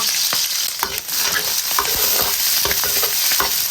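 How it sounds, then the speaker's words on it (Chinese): Scallion, ginger and garlic sizzling in hot oil in a wok, a dense, bright crackle with spatula scrapes and knocks throughout, close and loud. "锅中加油，葱姜蒜爆香"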